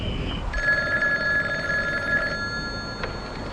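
A telephone bell rings in a ringing burst lasting a couple of seconds, loud and clear over a noisy room background, followed by a short click.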